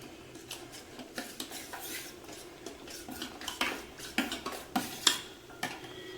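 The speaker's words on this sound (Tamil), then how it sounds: "தக்காளியை மசிச்சுக்கோங்க" Cooked lentils and tomatoes being mashed in a pot for sambar, a series of irregular knocking and scraping strokes of a utensil against the vessel, close and moderately loud with no talking.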